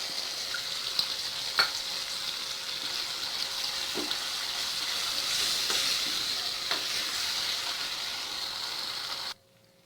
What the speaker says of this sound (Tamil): சேர்த்துட்டு கொஞ்சமாக தண்ணி ஊற்றிக்கலாம்.